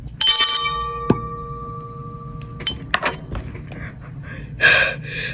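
A wishing bell in a video game rings out with a bright, clear chime that decays slowly, followed by a second softer ding and then scattered light clinks and soft game sounds.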